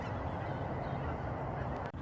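Geese honk as a bird dog flushes them from water, a loud, dense chorus of overlapping honks from a flock, continuous and unbroken with no talking.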